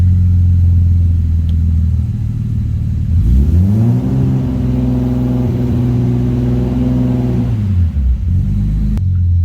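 A BMW M3 (G80) with a single-turbo N54 engine idles loudly, then revs up smoothly, holds a high, steady drone for several seconds, and drops back to a rumbling idle.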